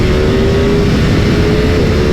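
A 2022 Ducati Streetfighter V2 motorcycle's twin-cylinder engine pulling hard through second and third gear, a loud, close, continuous roar with a steady droning tone and no talk.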